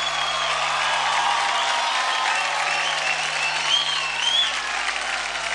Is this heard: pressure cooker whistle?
no